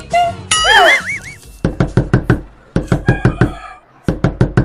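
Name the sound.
knocking on a door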